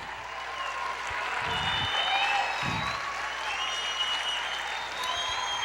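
A church congregation applauds together, sustained dense clapping throughout with a droning tone underneath and a couple of low thumps.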